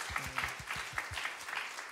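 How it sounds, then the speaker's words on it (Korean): Church congregation at a Korean revival service applauding in encouragement, a short burst of rhythmic group clapping with distinct beats. "박수 하시겠습니다"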